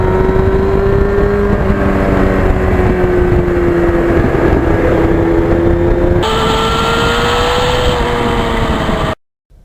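Engine drone of a 1991 Yamaha FZR 1000 motorcycle out on an open road, with a steady loud note that shifts pitch slightly as speed changes, rising after a gear change and cutting off abruptly at the end.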